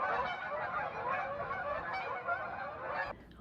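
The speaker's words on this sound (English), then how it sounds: "Big flock of geese flying over us." A large flock of geese honks overhead, a dense chorus of overlapping calls that carries on steadily before cutting off.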